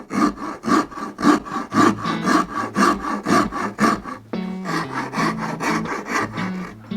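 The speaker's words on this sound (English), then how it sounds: "So I start carving" A hand tool carves wood for a guitar body in rhythmic rasping strokes, close and fairly loud, each stroke scraping in steady succession before shifting to a rougher, more continuous grinding scrape.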